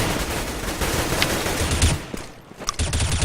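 Dense bursts of rifle fire during a Counter-Strike match between Natus Vincere and Mousesports, loud rapid shots crowding together, easing briefly before another volley.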